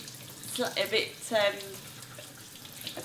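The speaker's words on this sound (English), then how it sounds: "we're going to give it a quick rinse through with cold water" Cold tap water runs over rice held in a sieve for rinsing, a close splashing gush that rises and falls in a few short bursts before fading to a low background.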